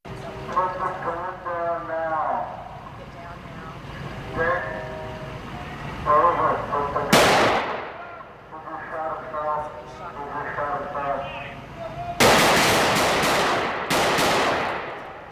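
Bursts of rapid gunfire crack out in two loud clusters during a police standoff, separated by stretches of people talking and radio-like voices in between.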